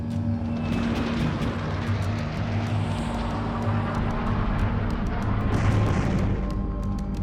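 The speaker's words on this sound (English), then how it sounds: "Attack helicopters dominate the battlefield." Soviet attack helicopters over an Afghan battlefield, a steady loud roar of rotors and engines with dense broadband rumble that holds throughout, slightly swelling near the end, with no talk.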